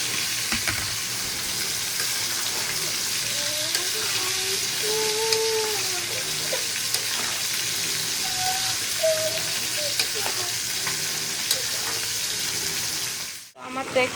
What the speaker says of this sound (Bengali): খুব ভালোভাবে এটাকে কষিয়ে নিব, যাতে সবজি যে কাঁচা ফ্লেভারটা সেটা যেন না থাকে।